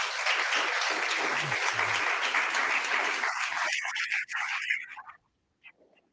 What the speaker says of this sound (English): How about a round of applause for these candidates?